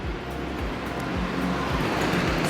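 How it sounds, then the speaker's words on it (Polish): A Vespa scooter approaches along a quiet street in Padua during siesta time, its engine hum swelling steadily louder as it nears and passes, with no voices present. "skuter i to jeszcze Vespa"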